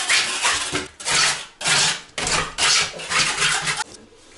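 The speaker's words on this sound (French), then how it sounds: "on va gratter un petit peu tout ce qui s'en va" Loose plaster scraped off a bathroom wall in about six rhythmic, rasping strokes with short pauses between them, close and fairly loud with no talking.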